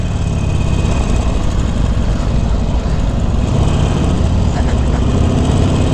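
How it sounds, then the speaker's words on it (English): A 2019 Harley-Davidson Forty-Eight Special motorcycle runs steadily on the road with a constant, loud engine drone and rushing wind noise, with only slight changes in the engine note as it moves through smooth gear shifts. "Nice smooth shifting on this bike."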